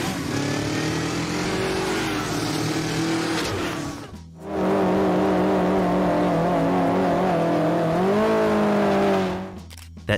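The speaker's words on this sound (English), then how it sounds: "That deep Harley rumble you remember." Engine roar from a Harley-Davidson motorcycle, a loud sustained rumble that surges, dips briefly, then swells and holds before cutting off, heard alone up close.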